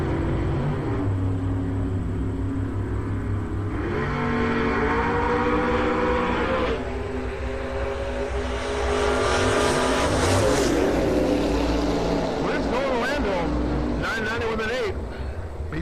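A 2007 Corvette race car idles and revs at a drag strip, a loud, close engine drone rising and falling in pitch, with an announcer talking over it and a brief surge near the end.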